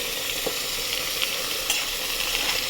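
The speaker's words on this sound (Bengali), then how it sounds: "আলুটা আমার ভাজা ভাজা হয়ে গেছে।" Potato pieces fry in a pan with a continuous, even sizzle, joined by a few soft stirring scrapes and clicks. No one speaks.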